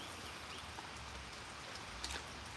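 Rain falls steadily outdoors at a shooting range, a constant soft hiss of drops with a few faint closer patters and no talking.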